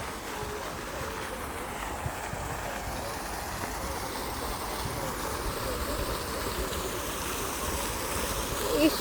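Water flows in a continuous outdoor rush on a hot day in Madrid, steady and fairly loud throughout, with a broad noisy wash and no distinct events or talking.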